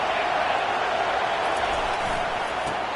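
Crowd noise from a college football stadium at an away game in Texas, a steady loud roar from a large crowd cheering to back the defense, filling the whole span without a break.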